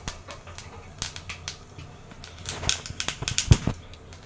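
Dried chillies and whole cumin seeds sizzle in hot oil, heard close as a steady crackling hiss broken by sharp pops and spits, with a few louder snaps toward the end.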